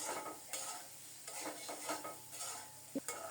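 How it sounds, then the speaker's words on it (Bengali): Curry simmering and sizzling in a pan, with stirring scrapes recurring every half second or so at moderate level and a brief clink near the end; no talking. "সব মিলিয়ে আরও কিছুক্ষণ অল্প তাপে কষিয়ে নিয়ে ফোটানো গরম জল দিয়ে দেব"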